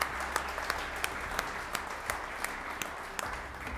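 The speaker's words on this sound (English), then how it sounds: "Thank you for that round of applause" Applause from an audience at a College of Engineering lab grand opening, a steady wash of clapping with no voices over it, held at a moderate, even level throughout.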